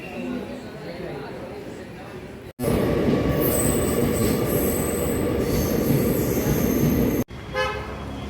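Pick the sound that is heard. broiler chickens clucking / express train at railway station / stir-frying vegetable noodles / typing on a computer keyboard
express train at railway station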